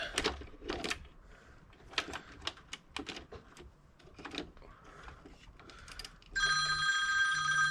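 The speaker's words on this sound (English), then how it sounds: "phone today is going mad." A telephone rings loudly at an electrician's landlord-requested EICR test in Warwickshire, breaking in after a stretch of scattered tapping and clicking noises.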